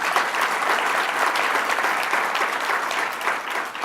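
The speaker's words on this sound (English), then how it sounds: "let's give them a round of applause" A crowd at a congressional press event on campus sexual assault applauds for several seconds, dense sustained clapping filling the room evenly without speech.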